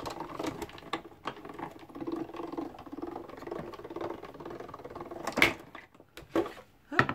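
Hand-cranked embossing machine rolled back and forth over toilet paper, a close, steady ratcheting patter with a few sharper knocks near the end.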